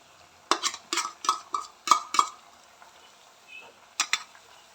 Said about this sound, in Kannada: ಇದೆರಡನ್ನ ಮಿಕ್ಸ್ ಮಾಡ್ತಾ ಇದ್ದೇನೆ.